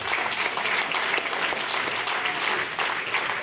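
Steady applause from the audience at a chamber of commerce installation dinner, a dense even wash of clapping that holds loud and constant without a break.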